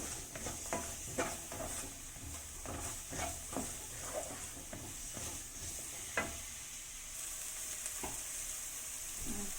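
Onion stir-fried for tikka masala sizzles steadily in a pan, with a spatula scraping and stirring in repeated clicks and strokes over the constant hiss.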